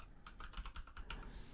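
Rapid, uneven keystrokes on a computer keyboard while code is entered, about ten close clicks packed into a second and a half, crisp and nearby with no voices.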